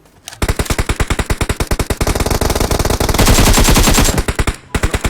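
Rapid automatic rifle fire in the mobile battle royale PUBG Mobile, AK or SKS: a loud, close string of dense rhythmic shots with a brief pause near the end before a few more rounds.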